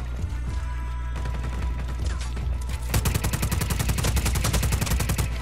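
Rapid automatic gunfire from the Just Cause 4 video game, starting with sparse shots and then becoming a dense, loud, continuous burst over a low rumbling background.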